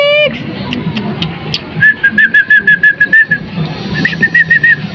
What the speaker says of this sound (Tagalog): Kailangan pa sumipol ako eh.